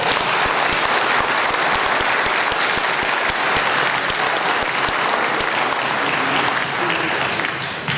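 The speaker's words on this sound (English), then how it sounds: "Let's give them a round of applause." Audience applause for a steel mill revitalization panel team: steady, dense clapping from a sizable crowd, loud and continuous for the full stretch, tapering slightly at the end.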